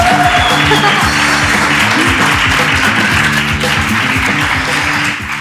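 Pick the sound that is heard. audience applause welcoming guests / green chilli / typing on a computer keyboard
audience applause welcoming guests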